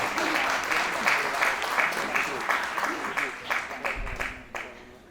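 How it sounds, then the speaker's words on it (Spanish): Audience at a Spanish-language talk event applauds steadily, dense clapping that gradually thins toward the end, with a few voices mixed in beneath it. "Aplausos, vamos."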